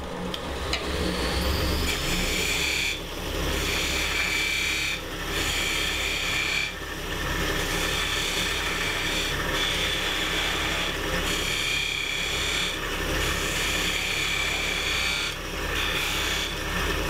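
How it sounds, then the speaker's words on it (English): A wood lathe spins a basket illusion ornament while an Easy Wood super fine detailer cuts it, making a loud, continuous rasping scrape that dips briefly every couple of seconds as the tool lifts and re-engages. "I'm gonna use the Easy Wood, the super fine detailer on that, so I can get right in there"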